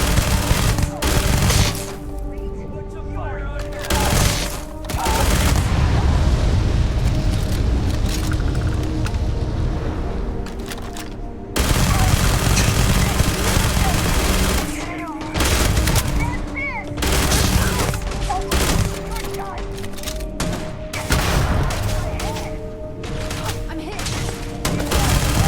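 Gunfire from a weapon in the video game Starfield, with rapid bursts of shots rolling over a busy battle soundscape of booms and impacts, loud and nearly continuous for the whole stretch, with a voice heard briefly among the shooting.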